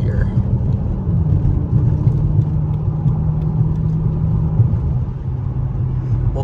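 Steady, loud low rumble and whir of a Chrysler 300 SRT8 heard from inside the cabin while driving over rough back roads, the engine and tyre drone constant throughout with no talking.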